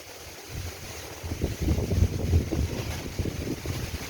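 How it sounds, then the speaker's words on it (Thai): Strong wind gusting outdoors through tall trees and garden plants on a cold day, a rough rumbling rush that builds and swells in irregular gusts close to the microphone, with no talk. "ลมมันไม่เคยแรงอย่างนี้มาก่อน"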